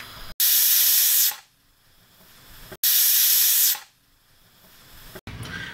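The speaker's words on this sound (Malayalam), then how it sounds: "കുക്കറിൻ്റെ കംപ്ലീറ്റ്ലി എയർ പോയിട്ടുണ്ട്" Steam from a pressure cooker used for cooking idli bursts out in two loud, close hissing blasts about a second long each, separated by quiet gaps.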